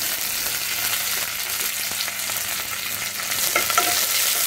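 Green chilies and curry leaves crackle in hot oil as a tempering for ripe mango pulissery, a steady, close, loud sizzle with no voices.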